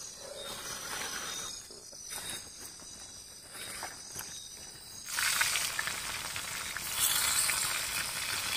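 Tempe fries in a pan at a forest campsite, giving a steady sizzling hiss that grows louder halfway through, with chirping insects and faint rustling in the background.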